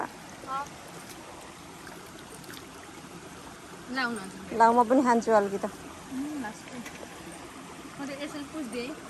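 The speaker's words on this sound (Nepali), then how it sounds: "पानी कस्तो मजाले सल्ल बग्यो नि" A stream gurgles and flows steadily in the background while a person talks over it in bursts, outdoors near an old cattle shed in Nepal.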